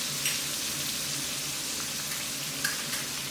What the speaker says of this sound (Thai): ผัดคลุกเคล้าให้เข้ากันดี